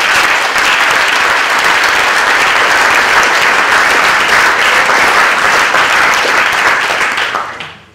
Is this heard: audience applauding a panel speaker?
yes